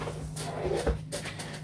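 A box of paints shifts in a drawer, giving a few faint, scattered clicks and light rattles against steady low background noise. It is brief and quiet, with no speech.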